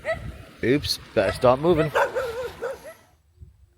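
Angry dogs on Koh Rong island, Cambodia, bark at a passing scooter rider, several sharp barks and yips mixed in with a man's speech across the first three seconds, fairly close.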